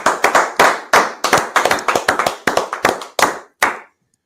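Hands clap close and loud in sharp, separate strikes, about fifteen in an uneven, quickening rhythm. A clear gap comes before one final clap, then silence.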